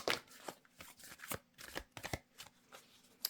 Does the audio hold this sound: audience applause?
no